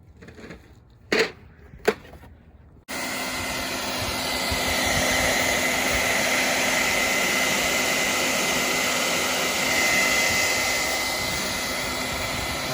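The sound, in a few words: heat gun blowing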